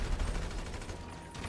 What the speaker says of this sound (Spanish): Me estoy disparando.